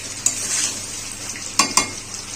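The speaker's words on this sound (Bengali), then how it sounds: "এই যে চিকেনগুলো ভেজে নিচ্ছি আমি।" Marinated chicken pieces fry in hot oil with a steady sizzle, broken by a few sharp scrapes and clinks of a utensil stirring in the pan, close and fairly loud.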